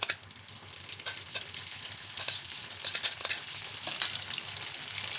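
Thai red fried rice sizzles in a pan, a steady crackling fry broken by scattered scraping and stirring clicks, close and moderately loud with no talking.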